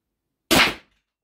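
A single sharp shot from the left barrel of an Umarex HDS 68 T4E calibre .68 air gun cracks out after a brief silence, loud and close, its report decaying quickly into quiet.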